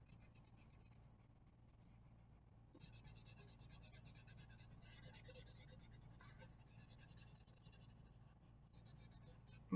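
Crayon or colored pencil rubbing across paper while shading a pumpkin drawing, a steady close scratchy texture in curving strokes, continuous and alone.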